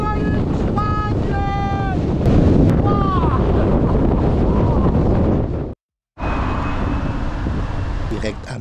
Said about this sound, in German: bei strahlendem Sonnenschein, aber einem wahnsinnig starken Wind.